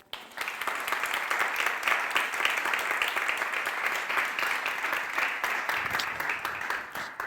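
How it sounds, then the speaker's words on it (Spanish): Steady audience applause at a science talk on sex differences in health and genomics, a dense, even wash of many hands clapping for about seven seconds before fading at the end. "Un aplauso"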